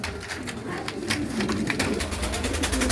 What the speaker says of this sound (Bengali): এই দেখেন ডাকগলা কবুতর যদি কারো লাগে